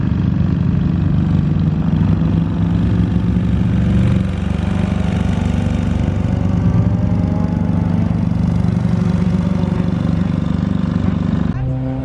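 Car engines run on the Top Gear test track at Dunsfold Aerodrome, where a 1967 Ford Mustang Shelby GT500 is present, with loud steady droning and shifting revs throughout and voices talking over the noise.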